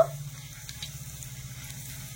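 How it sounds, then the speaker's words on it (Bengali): Mustard seeds, dal and dried red chillies frying in oil as a tempering, a soft steady sizzle close by with faint crackles and no talking. "তো এই ফোড়নগুলো খুব সুন্দরভাবে ভাজা হয়ে গেছে।"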